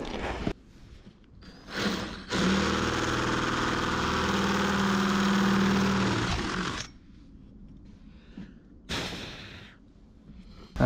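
A power drill widening holes in electronic circuit board plates for a 12 mm bolt, on a makeshift clamped table during a camper electrical build; one loud sustained whine of about four seconds, plus two brief short bursts.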